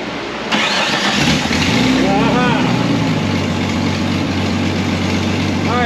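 A Jeep XJ's 4.0 L6 engine cranks, catches and settles into a steady low idle close by, with people talking over the running engine.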